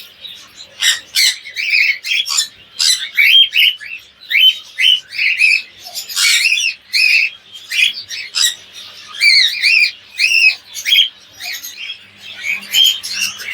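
Cockatiels in a colony cage chirp and squawk in a loud, busy chorus of repeated shrill calls and whistles that rise and fall close by.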